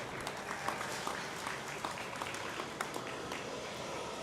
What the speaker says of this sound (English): So give them two a nice round of applause.